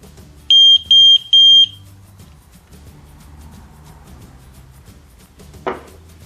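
ELRO water alarm giving three short, loud, evenly spaced beeps, followed by a quiet stretch with faint background noise and a brief knock near the end.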